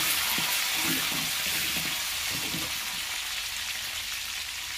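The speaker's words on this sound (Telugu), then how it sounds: "కరివేపాకు వేసుకొని ఇలా ఫ్రై చేసుకోవాలి." Curry leaves frying in hot oil in a pan, a steady broadband sizzle with faint crackles throughout, close and continuous, no speech.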